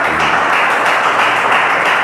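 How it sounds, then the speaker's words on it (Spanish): A church congregation applauding together, a dense, steady burst of many hands clapping at full loudness with no voices over it. "Démosle un aplauso a Dios."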